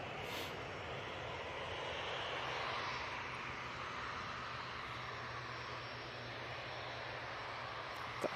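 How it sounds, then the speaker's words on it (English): A propeller aircraft passes overhead near Manchester Airport, a steady broadband engine drone holding at moderate loudness throughout, swelling slightly midway with no voices. "Here, a prop overhead."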